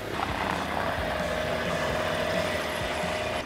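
Both engines of a Tecnam P2006T twin-engine light aircraft run steadily nearby, a low continuous drone with a faint even hum throughout, no talking.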